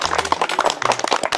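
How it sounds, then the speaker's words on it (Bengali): Brief scattered handclaps from a gathering, uneven and somewhat sparse, with a few sharper claps standing out close by. "অভিভাবকের জন্য ছোট্ট একটা হাততালি"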